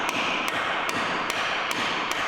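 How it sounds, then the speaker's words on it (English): Metal hammer blows knocking the drive shafts out of a Ford Fiesta during engine removal, six sharp strikes spaced at a steady rhythm roughly every 0.4 seconds over constant workshop background noise. "I could knock out the drive shafts."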